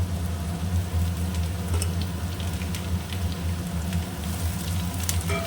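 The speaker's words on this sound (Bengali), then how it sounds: "এবার আস্তে আস্তে করে আবার ভাজা হবে" Bitter gourd and potato slices frying gently in a pan, a continuous soft sizzle and crackle with a low hum underneath, close and steady with no talking.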